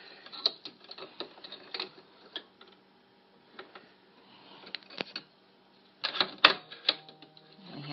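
An embroidery machine runs an applique tack-down stitch. Its needle gives a rapid, uneven mechanical ticking and clatter in bursts, close and moderately loud, with a few short pauses between runs.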